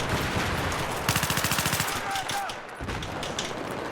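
Rapid bursts of PP-19 submachine gun fire in Battlefield 3, loud and close, with dense automatic volleys and game ambience between them.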